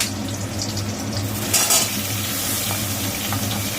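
Pointed gourd, ridge gourd, pumpkin and eggplant sizzle steadily in hot oil in a pan, a continuous close frying hiss with a brief louder surge as the pieces settle, while fish curry is prepared.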